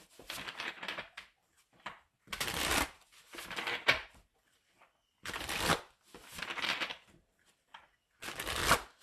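Tarot cards are shuffled up close in repeated bursts, each a crisp riffling, papery rush lasting under a second, separated by short pauses, with no talking.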